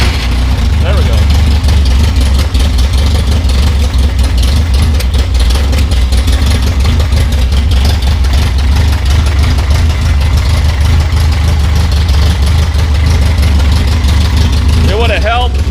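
A 1973 Volvo 142 SCCA race car engine idles while warming up, a loud, deep, continuous rumble held steady throughout, with a voice speaking over it.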